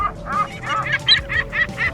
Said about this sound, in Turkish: ağaçların oradan çıkan bir martı çığlıklar atarak üzerime doğru geldi